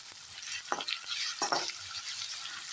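Garlic with red chilli paste frying on high heat for khichdi, a soft sizzle with a few brief stirring scrapes, quiet and close, without voices.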